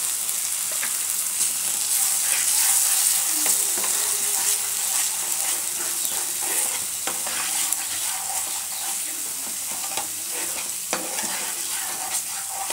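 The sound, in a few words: sautéing masala with cashews, raisins and poppy seeds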